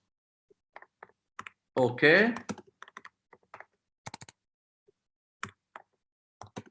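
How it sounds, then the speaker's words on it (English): Sparse clicks from typing on a computer keyboard while entering text in a chat box, short bursts of light taps spread across the stretch, with a brief spoken word in the middle. "I am typing in the chat box"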